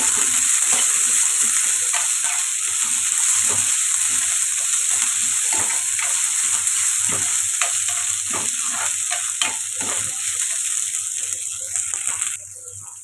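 Green peas frying in a pan for dhaba-style matar paneer masala give a loud, continuous hiss and sizzle, broken by frequent scraping stir strokes, steady until a brief drop near the end.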